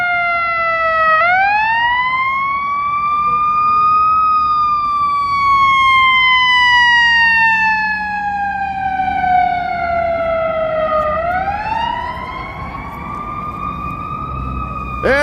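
A loud emergency vehicle siren in Chicago wails in long, slow rising and falling sweeps, close by, with faint traffic rumble underneath.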